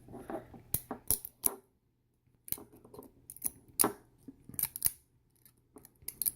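Scissors cut parts of a 3D printed miniature figurine in sharp, close snips, a few quick clusters of clicks separated by short pauses.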